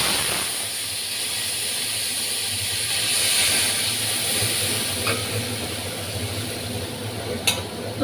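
Paste of turmeric, green chili and ginger sizzling in hot oil while cooking a hilsa fish curry with green banana and potato, giving a steady, close hiss that swells slightly midway, with a few faint clinks.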